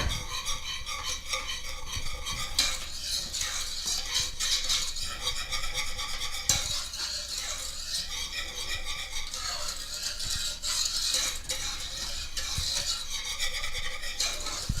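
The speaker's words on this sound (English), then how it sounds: "we're going to whisk our sugar and our cocoa together" A whisk scrapes and rattles steadily around a bowl as sugar, cocoa and milk are mixed, a continuous brisk rhythmic stirring, fairly quiet and close with no voice.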